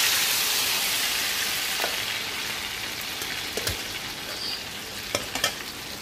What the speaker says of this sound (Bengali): এখন তেলের মধ্যে বটগুলো দিয়ে দিব।